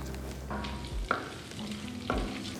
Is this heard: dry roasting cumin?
yes